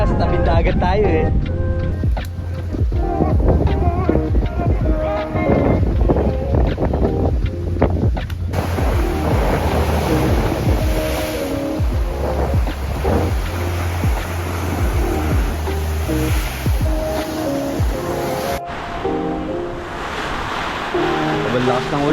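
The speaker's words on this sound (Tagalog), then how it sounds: "Sobrang lakas ng ulan. Grabe." Very heavy rain pounding a tent at a cliffside beach campsite on Cabangaoan Beach, Burgos, Pangasinan, a loud continuous roar mixed with gusting wind buffeting the microphone, with people talking over it now and then.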